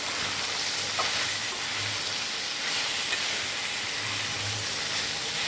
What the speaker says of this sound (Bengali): এটাকে কিন্তু চাপা দিয়ে দিয়ে ভাজতে হবে, নরম করতে হবে